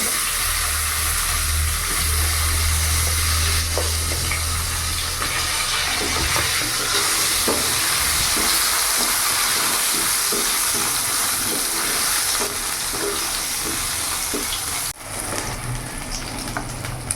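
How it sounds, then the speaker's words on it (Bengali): Cut brinjal pieces fry in hot oil for a mixed vegetable dish, a dense, steady sizzle with occasional stirring clinks and scrapes, close and continuous with no talking. "এবার ওই তেলের মধ্যেই আমি এখানে কেটে রাখা বেগুনগুলো ভেজে নেব"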